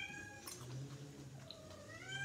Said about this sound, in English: My cat in heat, y'all.